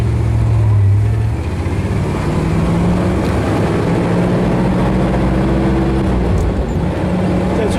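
A 1968 Corvette 427 big-block convertible rumbles steadily while being driven, its deep engine drone loud and continuous, with a low throb that rises and falls slightly as it pulls along.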